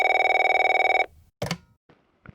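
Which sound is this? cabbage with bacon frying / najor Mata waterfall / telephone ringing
telephone ringing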